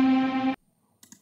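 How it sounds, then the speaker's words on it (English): Electric guitar sample with heavy distortion and reverb: a single bright, buzzing sustained note that cuts off abruptly, followed by a short silence and a faint click. "I just wanted it to sound like an electric guitar, so I just added a lot of distortion."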